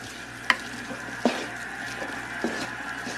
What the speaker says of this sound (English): I'm going to put some garlic in there.